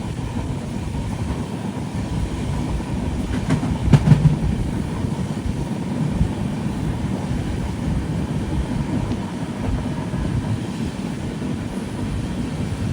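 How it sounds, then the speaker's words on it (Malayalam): The Matsyagandha Express sleeper train runs toward Murudeshwar with a steady rumble and rolling clatter heard from inside, moderate and continuous, with a brief brighter squeal around the middle. "ട്രെയിൻ ഇപ്പോൾ മുരുടേശ്വരത്തേക്ക് എത്തിക്കൊണ്ടിരിക്കുകയാണ്"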